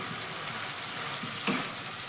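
Okra sautéed with mustard paste, turmeric and spices gives a soft, steady sizzle in the pan, with light stirring scrapes and a short louder scrape near the middle.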